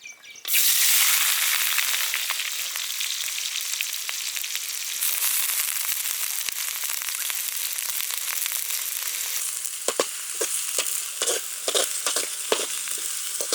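Onions frying in hot oil, an intense, continuous close sizzle that fills the whole stretch, with crackly spatter pops growing more frequent toward the end.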